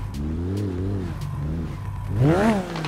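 A Lamborghini engine in GTA 5 revs up in short bursts, loud and close, climbing sharply in pitch toward the end of the brief moment.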